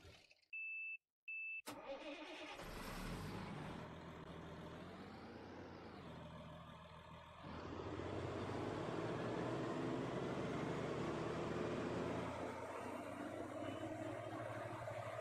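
A farm machine engine in Farming Simulator 19 starts after a few short beeps, then rumbles and revs up and down, settling into a loud sustained roar that swells higher partway through.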